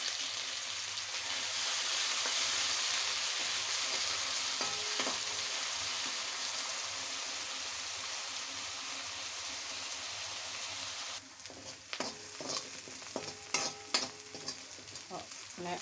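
Shallots and green chillies frying in hot coconut oil for a leaf thoran, a steady close sizzle filling the clip, with spoon-stirring scrapes and clatters growing busier toward the end; no voices.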